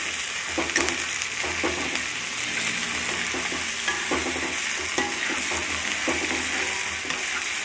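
Onions and ginger sizzle and fry steadily in a hot pan, with occasional stirring scrapes, while cooking for wheat rava upma. The sound is close and continuous, with no talking.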